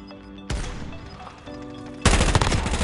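Gunfire in Warzone on Rebirth Island: a few loud bursts of shots, then a dense, close rattle of rapid automatic fire at the end, over ambient game noise, no talk.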